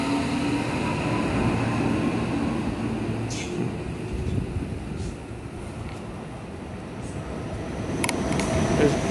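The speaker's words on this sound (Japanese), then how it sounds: "普通列車の西明石行きが出発していきます" A JR local train bound for Nishi-Akashi pulls out of Higashi-Yodogawa station, a steady low rumble of wheels and motors running under wind noise, with faint high squeals and clicks.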